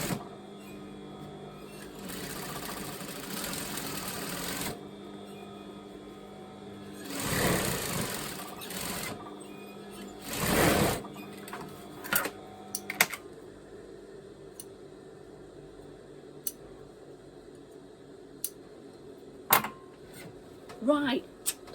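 A sewing machine stitches a top in short, uneven runs of mechanical whirring, with clicks and taps between them and a voice talking at times over a low room hum.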